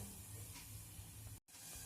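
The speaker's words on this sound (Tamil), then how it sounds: "இப்போ தண்ணி நல்லா கொதிக்க ஆரம்பிச்சிடுச்சு இன்னும் நல்லா கொதிக்கட்டும்" A steady, faint rushing hiss of water boiling in a pot, close by, with one brief dropout.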